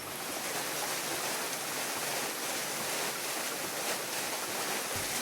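River water rushes and churns around a ram pump, a steady broadband wash of flowing water heard at moderate level throughout, with no talking.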